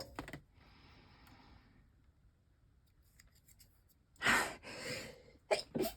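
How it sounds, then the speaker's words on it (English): A single sharp sneeze bursts out close by, followed by a short breathy sniff, after quiet rustling and scraping. "I'm gonna sneeze."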